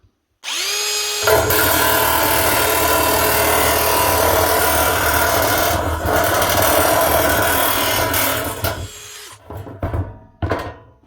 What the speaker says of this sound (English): For a cordless nibbler, that can do alright, eh?